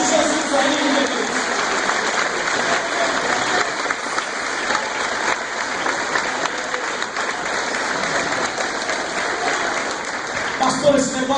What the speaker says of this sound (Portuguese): Posso aplaudir Jesus aí, meu?